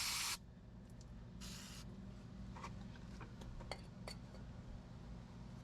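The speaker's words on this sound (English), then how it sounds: "Spray it with some brake cleaner." A short, sharp hiss of brake cleaner sprayed onto a brake caliper on a C3 Corvette, followed by a second brief burst and scattered light metallic clinks against a steady low hum.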